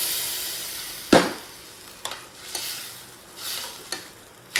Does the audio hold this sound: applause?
no